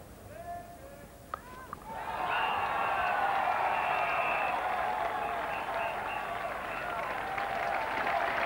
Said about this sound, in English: And the extra applause now for Gordon Greenidge, reaching 50 out of a total of 77.